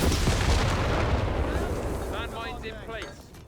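Artillery firing in the Company of Heroes 3 strategy game, with heavy booms rumbling at the start and fading under a caster's running commentary.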